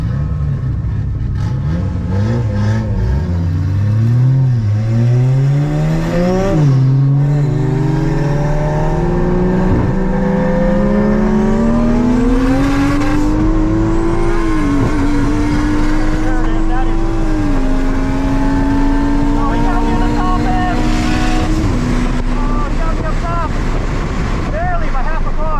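A 350 horsepower Honda Civic launches in a drag race down an abandoned runway, its engine loud and close, rising in pitch through several gear changes with a turbo whine, with wind buffeting the microphone throughout.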